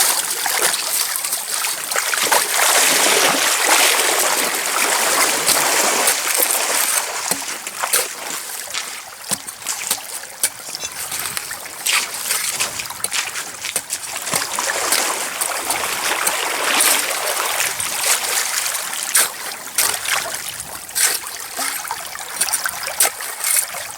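A shallow, fast-moving stream flows steadily beside an otter trap set in freezing winter weather, giving a continuous close rush and trickle of water with small splashes throughout.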